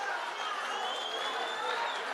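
A crowd at the 14th Gauteng ANC provincial conference gives a steady, dense round of applause that fills the space, with a faint whistle-like tone running through it.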